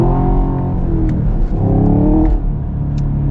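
Chevy Camaro SS 1LE with a manual gearbox accelerating hard, its V8 roaring loudly up through the revs with rising drone, brief dips at gear changes, then pulling again; heard from close by with no talk.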